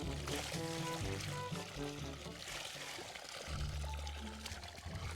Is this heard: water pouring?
yes